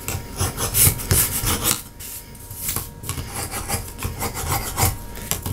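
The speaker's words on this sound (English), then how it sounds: "now I'm going to just take a screwdriver, maybe a nice pick, and just start beating it up a little bit" Close, harsh rasping and scraping as a screwdriver and a pick gouge and rough up wooden coasters to distress them, in uneven bursts of strokes with brief pauses.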